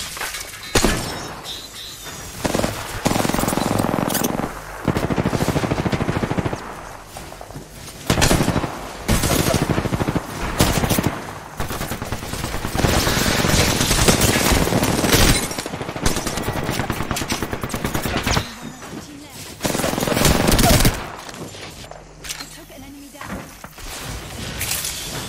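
Bursts of gunfire erupt repeatedly in Apex Legends, loud rapid volleys separated by brief lulls, with players talking over the shooting at points.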